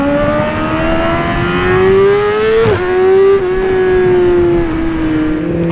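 A 2020 Yamaha R6 sport motorcycle accelerating hard, its engine note climbing in a loud, steady wail with a brief dip partway through as it shifts gear, then pulling on again.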